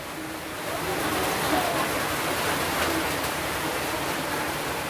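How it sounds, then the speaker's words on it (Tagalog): A dense, steady roar of heavy rain fills the whole stretch, loud and unbroken with no voices. "Oh, lakas talaga ulan."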